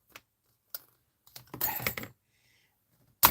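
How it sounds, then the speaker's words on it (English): A battery clatters across a messy desk in a few sharp, separate ticks and skitters, then a denser rattling burst and one final clack, close and fairly loud with quiet gaps between hits. "the battery went flying across my messy desk"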